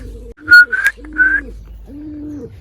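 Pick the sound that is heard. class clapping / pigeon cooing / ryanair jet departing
pigeon cooing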